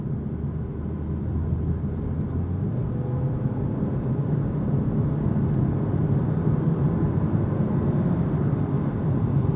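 A 2022 Genesis G70 2.0T turbo engine hums steadily from inside the cabin as the car downshifts into fourth, a continuous low rumble with a gentle rise in revs and no voices.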